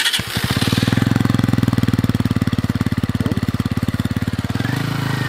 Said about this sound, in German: wir machen noch einen Auspuffcheck